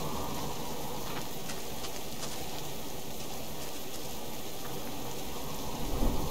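Steady rain pours down in the survival video game Subsistence, a dense, even hiss of falling drops holding at the same level throughout, with no voices over it.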